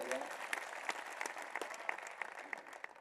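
Scattered, fairly faint clapping from an audience at a poetry stage event, with sharp individual claps standing out against a soft background of other hands while someone speaks over it.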